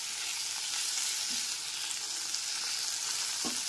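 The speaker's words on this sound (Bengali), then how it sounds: "আদা রসুন বাটাটাকে টমেটোটার সাথে খুব ভালো করে কষিয়ে নিতে হবে।" Ginger-garlic paste frying with tomato in a pan gives a steady, dense sizzle close by, with a couple of brief spoon scrapes or knocks, no talking.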